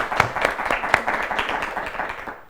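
An audience at a children's quiz competition bursts into applause for four students, a dense burst of clapping that stays steady and fairly close before tapering off near the end.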